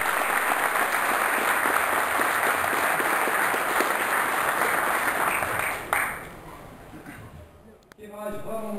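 Loud applause at a union board inauguration ceremony fills about six seconds, then thins and fades while a voice begins speaking near the end.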